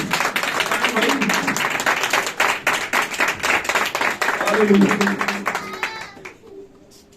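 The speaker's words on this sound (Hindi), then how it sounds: "यीशु मसीह के जलाल के लिए तालियां हो।" A church congregation claps during a Pentecost sermon, a run of quick, closely packed hand claps near the listener with voices mixed in, swelling and then fading away.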